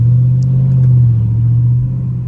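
A Dodge Scat Pack's engine holds a loud, deep, steady rumble close by, easing slightly toward the end with no talking.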